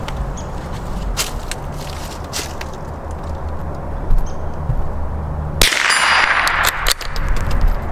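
Shots from a bolt-action H&R Plainsman .22 rifle ring off a steel target outdoors: a few sharp metallic clangs spaced seconds apart, then a louder broadband burst near the end.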